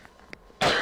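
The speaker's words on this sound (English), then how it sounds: "I'm going to cough" After a few faint clicks, a single loud, harsh cough bursts out close up and fills the end of the clip.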